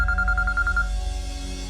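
A phone ringtone in an indoor drama scene: a short series of rapid, evenly pulsed electronic tones that stops partway through, over a steady low background hum.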